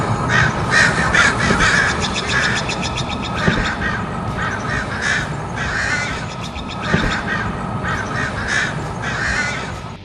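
Crows caw repeatedly in harsh, rhythmic bursts, several calls overlapping over a steady outdoor background, fairly close and prominent with no speech.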